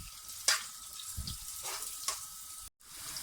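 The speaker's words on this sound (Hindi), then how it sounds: "प्याज को हमने हाई फ्लेम पर जो है वो बनाना है।" Onions frying over a high flame for a chicken rice dish, giving a steady close sizzle with a few sharper spatters and stirring scrapes, broken by a brief gap near the end.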